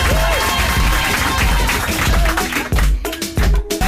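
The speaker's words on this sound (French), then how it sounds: "Je vous demande d'applaudir très fort." Live studio audience on a French evening TV show applauding hard and loud, dense broadband clapping throughout with a few sharper claps and a brief dip near the end.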